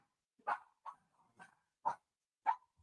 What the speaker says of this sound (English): Hey, even the dogs are excited Neve is back